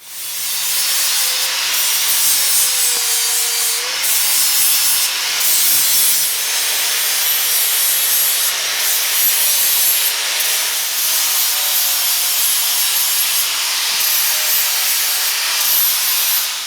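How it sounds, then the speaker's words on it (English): An angle grinder smoothing the rough cast texture off the horn of a 66-pound VEVOR anvil, a loud, continuous abrasive whine and scraping that runs steadily throughout with slight pitch shifts as pressure changes. "we're also going to kind of grind off this rough cast texture on the horn and make it nice and smooth"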